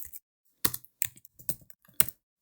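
Keys on a computer keyboard are tapped to type HTML code, a handful of quick, close, distinct clicks in short bursts separated by brief silences.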